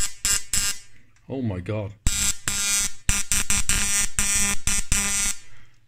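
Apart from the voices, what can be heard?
Siemens X-ray tube high-voltage apparatus buzzing after ignition is pressed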